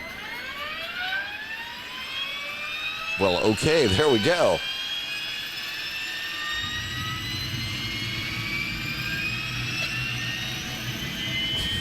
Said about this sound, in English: you should start to hear the APU starting to fire up